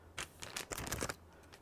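Color-coded electrode packaging for a biopsychology lab being unwrapped nearby, a run of crisp plastic crinkles and rustles in irregular bursts, fairly quiet and with no talking.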